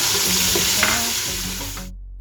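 Chopped onion frying in hot oil in a pot for Nigerian party jollof rice, a steady broadband sizzle with a few utensil scrapes, partly under background music, ending abruptly after about two seconds.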